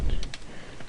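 Several quick key clicks from a computer keyboard as a filename is typed, a short burst of taps with a low rumble underneath, fairly close.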